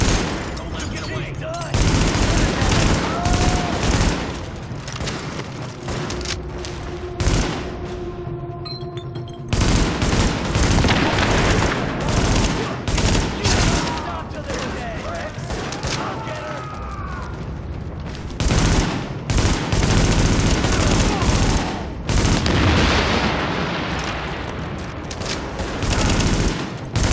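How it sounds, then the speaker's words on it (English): Heavy rooftop gunfire in The Division, a dense loud fusillade of rapid machine-gun bursts and single shots that rattles almost continuously, with brief pauses and booms mixed in and scattered voices under the shooting. "The escort party's taking heavy fire from the roof."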